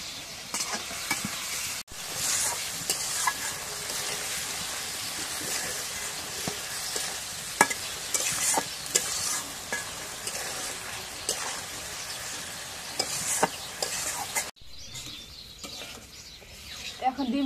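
Eggs from free-range country chickens frying and stirred with coriander leaves in a pan over a clay stove on a cold winter day, a steady close sizzle with scraping utensil strokes throughout, dropping off near the end.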